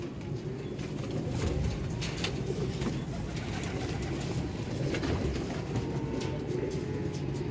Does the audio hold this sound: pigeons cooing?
yes